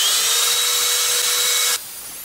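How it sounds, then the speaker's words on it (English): A power sander runs on a turned wooden lid and finial, a steady high whine lasting under two seconds before it suddenly cuts off. "So I'm going to do the rest of this with the sander."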